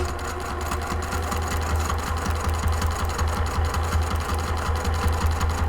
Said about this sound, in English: stitch down the right hand side, the left hand side, and across the base